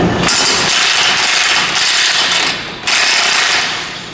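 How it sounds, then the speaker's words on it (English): Impact wrench driving a bolt on a Pontiac G8 upper control arm, two long continuous buzzing runs, close and loud, with a brief drop in between. "Now I'm cheating a little bit and using an impact"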